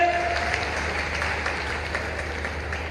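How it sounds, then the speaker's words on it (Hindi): A large crowd at a tribal community conference applauds for the Olympics, a dense, continuous wash of clapping that stays fairly loud and even throughout. "ओलंपिक के लिए जोरदार ताली बजाओ"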